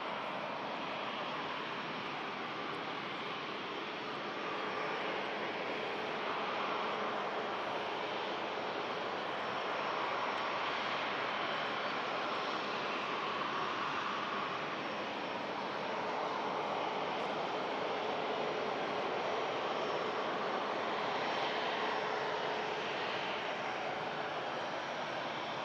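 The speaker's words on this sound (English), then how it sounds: "We'll keep our attention on this beautiful 350 as it taxis past us at the Manchester Airport runway" An Airbus A350 taxis past at Manchester Airport, its engines producing a steady, broad roar that swells gently as it moves by, heard alone at a moderate distance.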